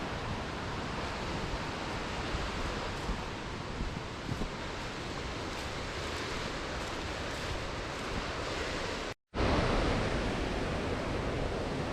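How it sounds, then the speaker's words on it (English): White water tumbles over a waterfall at an abandoned dam in Scotland, a loud, steady roar of rushing water filling the whole stretch, briefly cut off near the end before resuming. "Look at that waterfall,"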